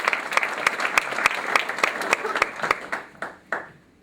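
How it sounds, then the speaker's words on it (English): An audience at a debate applauds the moderators, a dense round of clapping from a crowd that thins out to a few scattered final claps and fades. "I do want to give a round of applause to our 2 moderators who are here."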